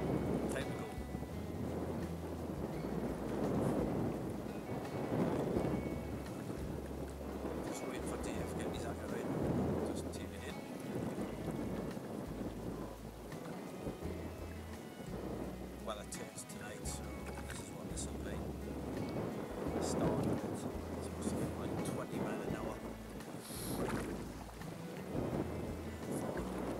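Wind at sea off Whitley Bay during kayak fishing, a steady gusty rush buffeting the microphone in low rumbling surges, with water movement beneath.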